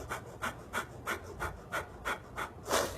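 Rapid rhythmic panting from the breath of fire breathing exercise, about nine quick forceful exhalations in a steady pulse, close and fairly quiet, with no talking.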